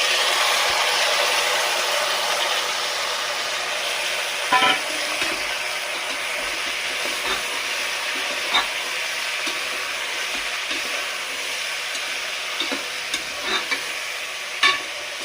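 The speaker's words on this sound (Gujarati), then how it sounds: "હવે વઘાર કરીશું" Spices crackle and sizzle in hot oil as a tempering is made for Gujarati khichdi, a steady bright frying hiss with occasional sharper pops and stirring clicks, close and fairly loud.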